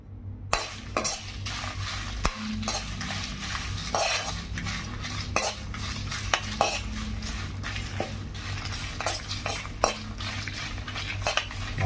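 Tamarind being stir-roasted in a pan for a flaxseed chili powder, with a spoon repeatedly scraping and clinking against the metal in an uneven rhythm over a low steady background, close by with no talking.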